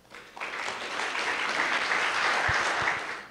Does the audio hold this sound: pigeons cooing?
no